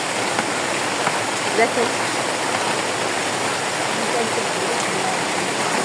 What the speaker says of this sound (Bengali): বাহিরে অধর বৃষ্টি নামতেছে